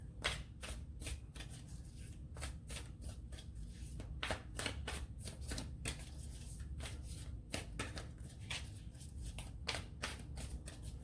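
Tarot cards being shuffled by hand, a long run of crisp riffling bursts and soft slaps repeating close to the microphone, with no one speaking.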